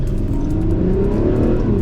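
Ferrari 12 Cilindri V12 engine accelerating hard on a road drive, a loud, steady rising drone heard close from inside the car with no talk.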